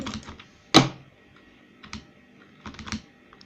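Sharp clicks and key presses from playing Minecraft SkyWars on a computer, with one loud click followed by scattered lighter taps in short bursts.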